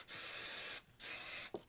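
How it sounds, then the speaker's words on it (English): Hairspray hisses from an aerosol can onto hair in two quick, close sprays of under a second each, separated by a short silence and followed by a soft click. "Add an extra hairspray."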